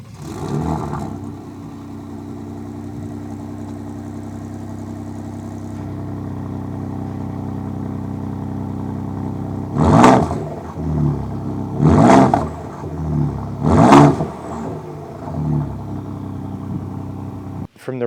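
A Ford Ranger Raptor's V6 engine and exhaust hum at a steady idle under a voice, then rev sharply three times in quick bursts close by before dropping back to idle.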